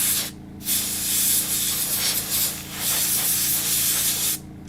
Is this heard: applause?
no